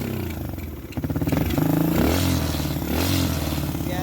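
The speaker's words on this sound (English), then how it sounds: "Okay, so she runs all right." Suzuki enduro motorcycle engine idling and revving near the microphone, a steady throbbing putter that rises in pitch and loudness partway through, with some rattling clatter; the bike's carburetor is poorly tuned and it smokes heavily.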